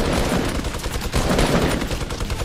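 Dense, continuous gunfire from a Fortnite match, loud rapid shots piling over one another without pause, with no voices over it.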